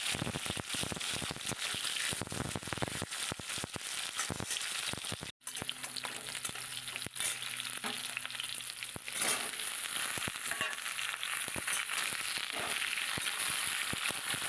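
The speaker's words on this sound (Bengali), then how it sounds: "মূলোটা দিয়ে একটু নেড়ে নেব ভালো করে" Radish pieces sizzle and crackle in hot oil in a pan while being stirred for a vegetable dal, a dense continuous frying hiss with scattered pops and occasional scraping of the spoon, close and fairly quiet.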